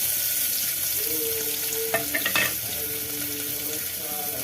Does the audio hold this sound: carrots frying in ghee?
yes